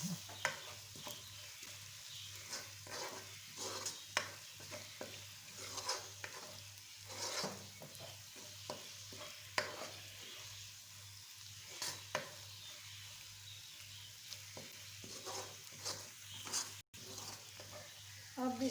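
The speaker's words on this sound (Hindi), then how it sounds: "2 से 3 मिनट हर मसाले को भूनते जाएं" Spices roast and stir in a pan for Lahori street-style chikar cholay, a soft steady sizzle broken by scraping spoon strokes and occasional light clinks against the pan, fairly faint and continuous throughout.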